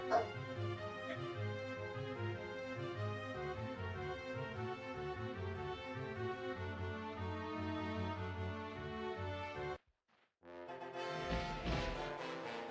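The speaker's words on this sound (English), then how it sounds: "Sorry, dogs are barking." Dogs in a home bark and whine in a steady, close, loud stream that stops briefly, then starts again.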